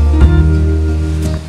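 Running water flowing into a blue-painted pool at a campsite in Lucban, Quezon, a loud steady rushing wash up close, with low hum-like tones and no talk.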